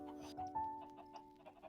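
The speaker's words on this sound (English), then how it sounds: "Why are there so many chickens in this darn warehouse?" Video game chickens clucking inside a warehouse, several short, faint clucks and calls in quick irregular succession.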